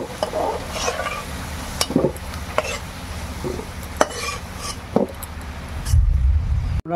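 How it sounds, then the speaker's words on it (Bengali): Potatoes frying in a pan for a Bengali village-style labra, a continuous close sizzle broken by repeated spatula scrapes and light clinks against the pan. "ভাজার কাজ চলছে"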